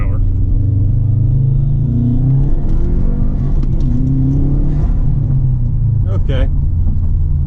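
A nearly stock Subaru WRX with a Cobb cold air intake and Accessport makes a hard first-gear pull from about 15 to 20 mph, its engine rumbling and revving up loudly and continuously from inside the car.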